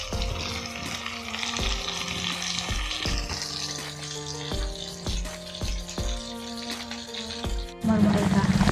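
Chicken frying in a pan while oil sizzles and bubbles steadily and fairly loudly throughout, with clattering and scraping of the pan or utensils at intervals and a louder burst of sizzling near the end.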